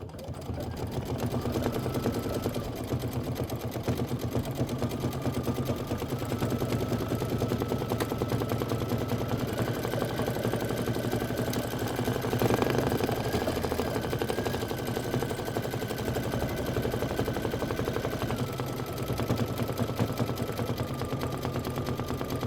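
Embroidery machine stitching out a design for a tabletop display, a steady fast mechanical whirring chatter running continuously at close range with a constant motor drone underneath.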